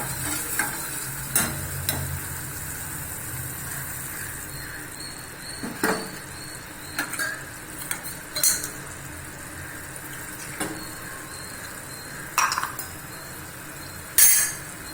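Coconut milk is poured into simmering tomato soup and stirred; soft liquid sloshing and stirring sit under quiet background noise, broken by scattered clinks of a utensil against the pot.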